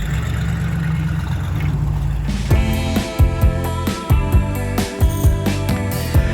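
A truck drives on Highway 86 with a low engine rumble, then rhythmic clunking thumps and bright metallic tones come in partway through and keep repeating.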